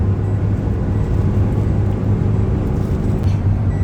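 Diesel car cruising on a highway at about 140 km/h, a steady low engine and road-tyre rumble with wind noise heard from inside the cabin, constant and fairly loud, no talk.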